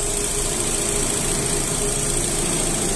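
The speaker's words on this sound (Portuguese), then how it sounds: "Ó pessoal, o motor, que redondinho que tá" A 2009 Opel Astra engine idles smoothly and evenly, a steady close rumble with no changes in pace and no voices over it.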